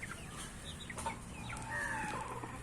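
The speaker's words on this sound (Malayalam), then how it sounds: "ഇവിടെ കോഴി മക്കളും" Chickens on a poultry farm cluck softly and intermittently at a moderate distance, with several overlapping calls against a quiet background.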